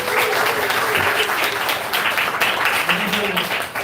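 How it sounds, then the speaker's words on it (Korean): A church congregation at a young adults' worship service clapping steadily for new worship team members, the applause dense and sustained while a voice talks over it. "박수 한번 쳐주실까요?"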